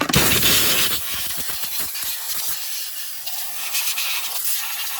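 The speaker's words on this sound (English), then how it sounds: "I use that air thing to plug into the cylinder, and then I'm gonna blow all this excess of shavings off" Compressed air blows a steady, loud hiss into a spark plug hole on a Ford F150 truck engine, clearing metal shavings from the cylinder, with rough rustling bursts at first that settle into a continuous rush.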